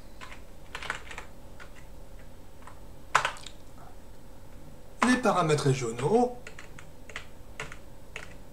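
Keys tapped on a computer keyboard to enter shortcuts while setting up Manjaro Linux, a few sharp clicks with a brief flurry near the middle, heard under someone talking.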